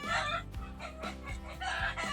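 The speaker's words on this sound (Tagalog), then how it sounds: "Hamal na mga manok na naman na ito" Chickens clucking and squawking in a busy, repeated series of harsh calls, fairly close, with rising crow-like notes breaking in roughly every half second and no talking.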